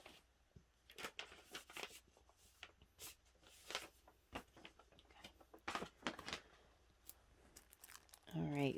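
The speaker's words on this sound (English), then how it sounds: "So let's open the envelope first." Paper envelope torn open and unfolded during an unboxing, a run of close crinkling, tearing and rustling bursts scattered over several seconds, with a louder crumple at the end.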